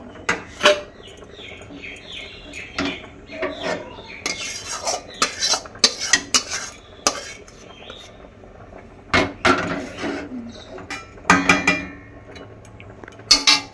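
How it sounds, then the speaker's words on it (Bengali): A metal basin is shaken and handled on a rainy day, giving irregular clattering knocks and rattles of metal, some loud and close, in bursts with brief pauses, and birds chirp faintly now and then. "গামলাটা নাড়া দাও, তাহলে ঠিক আছে, চলে আসবে"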